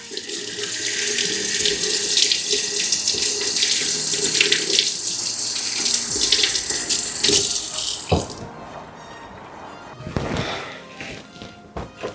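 Tap water runs hard into a kitchen sink while thyme is rinsed, a loud steady rushing stream lasting about eight seconds before cutting off, followed by a few scattered clunks and knocks.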